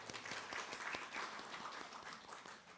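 Church congregation applauding to welcome visiting members during a Sunday service, a steady dense patter of many hands clapping throughout at moderate, even loudness.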